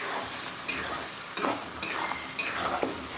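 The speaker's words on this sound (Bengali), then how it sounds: "থোড়টা দিয়ে খুব ভালো করে কষিয়ে নেব" Mashed banana stem is stir-fried in a pan with toasted coconut, giving a continuous soft sizzle broken by repeated scrapes and taps of the spatula at an uneven rhythm, close by with no talking.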